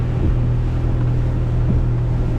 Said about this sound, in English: just on tick over the engine keeps on stalling